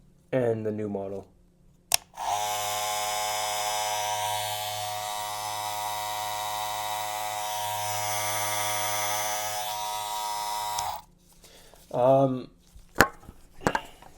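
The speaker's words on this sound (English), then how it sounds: "noticeably this one is a lot quieter than the old model" A new Andis Master Black Label hair clipper buzzes steadily up close for about nine seconds, a smooth, even motor hum, with brief speech and clicks before and after it.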